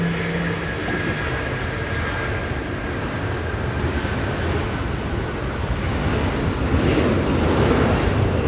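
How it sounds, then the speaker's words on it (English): A United airliner departing Los Angeles International Airport for Newark, a steady broad jet roar heard from a distance that swells slightly toward the end. "United 2259 flying to Newark, the departure."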